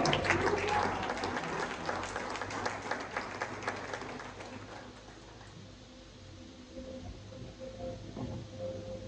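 A church congregation breaks into dense applause that starts strong and gradually thins out over several seconds, leaving a quieter room with scattered murmuring voices.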